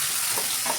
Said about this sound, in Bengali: এবার টমেটোগুলো ঢেলে দিব মশলা সহ